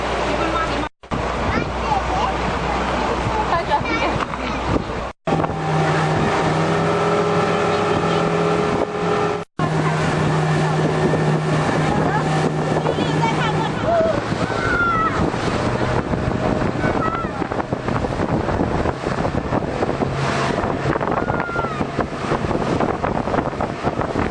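Steady drone of a tour boat engine running throughout off Tai O, Hong Kong, with wind and water noise over it and brief dropouts.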